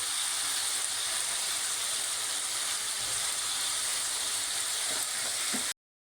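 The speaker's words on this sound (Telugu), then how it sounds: "చికెన్ ఫ్రై అయ్యేదాకా ఇలా మధ్య మధ్యలో కదుపుతూ ఉండాలి" Chicken frying in a pan for Andhra-style chicken pickle gives a dense, even sizzling hiss that runs steadily and loudly for several seconds before cutting off abruptly, with no voices.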